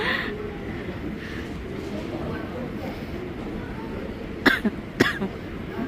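Two quick coughs near the end, close together, over a steady murmur of background noise at Chubu Centrair Airport in Nagoya, Japan.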